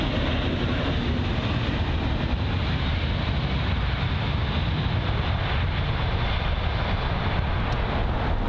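An Airbus A380 arriving on runway 27 right at London Heathrow produces a heavy, continuous, dense roar of jet engines that stays loud and steady throughout, with no one talking.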